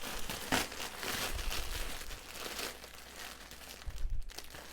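A plastic bag full of cleaning rags crinkles and rustles close by in uneven bursts, fairly soft throughout.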